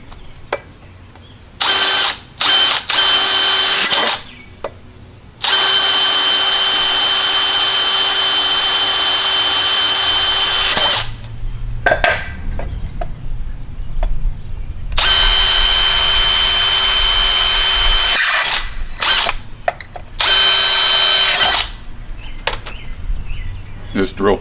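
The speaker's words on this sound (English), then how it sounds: "Just drill 4 holes in it." A power drill bores holes while an outside light and outlet are installed during a home remodel: several loud, close bursts of steady whining, with two long continuous runs and short pauses between them.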